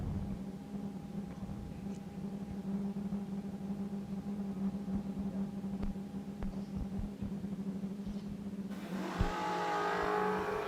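A race car engine drones steadily on a raceway during a TB Promotions Twin $50s race at World Wide Technology Raceway, heard from a distance as a continuous hum, with a brief swell of louder engine noise near the end.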